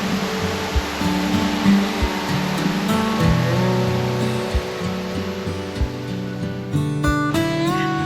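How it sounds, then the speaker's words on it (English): Rain-swollen waterfall roaring as a steady, dense rush of water, constant and fairly close, with a faint tonal hum running underneath and no talking. "with all this rain we've had, this waterfall is absolutely amazing"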